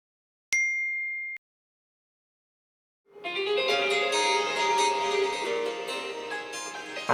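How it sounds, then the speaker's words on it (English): Doro 7030 mobile phone ringing with an incoming call: a single short electronic ding, then a pause, then a loud, sustained, bright ringtone melody with many tones that plays steadily on without talk. "And we're now getting a phone call."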